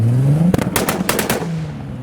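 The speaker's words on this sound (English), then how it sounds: "Will revs be made over here?" A car leaving a car show gives a loud, close engine rev, then a rapid string of sharp cracking pops from the exhaust, before settling back to a low idle hum.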